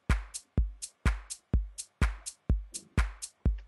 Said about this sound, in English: So they are kick, shaker, and clap.